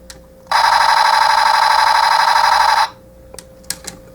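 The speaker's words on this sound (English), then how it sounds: "Gatling gun sound" A 2001 Transformers Robots In Disguise Ultra Magnus toy fires its electronic Gatling gun effect, a loud buzzing rattle about two seconds long that stops abruptly, followed by a few faint clicks.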